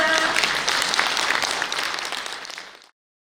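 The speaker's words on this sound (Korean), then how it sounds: "큰 박수 부탁드립니다" An audience breaks into warm, dense applause before a tea-life lecture at a national training event, loud at first, fading and cutting off abruptly near three seconds.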